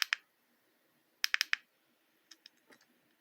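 Sharp button clicks on a cheap dual wireless lavalier clip-on microphone transmitter, one double click near the start, a quick run of four clicks, then fainter scattered clicks, close and alone without talk.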